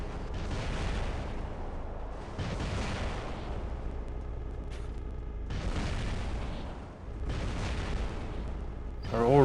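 The Flux heavy weapon fires in War Robots in four separate booming bursts, each swelling and fading over about a second, with quieter game noise between them.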